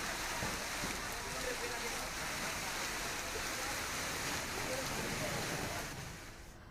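Steady pre-monsoon rain in Mumbai hisses continuously as a broad, fairly loud wash of falling water, easing slightly toward the end.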